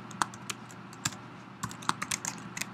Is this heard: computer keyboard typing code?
yes